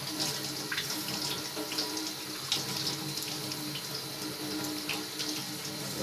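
Hot water runs steadily from a tap fed by a kitchen water heater, a continuous close splashing stream with no breaks. No one talks.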